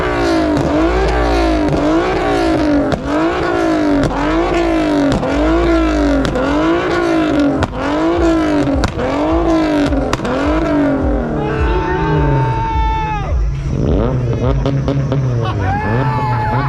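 Infiniti and Subaru tuner cars race at Irwindale Speedway, their engines revving hard in rapid, repeated rising pulls, loud and close. The engines then fade as the cars pass and move away, leaving crowd noise and chatter behind.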